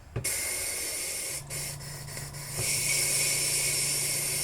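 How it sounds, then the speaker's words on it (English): Airbrush shooting paint thinner into a spray-out pot while clearing leftover craft paint from the system, giving a steady close hiss that dips briefly in the middle, then returns louder and continues unbroken. "I just shoot some paint thinner in it. This is my spray out pot."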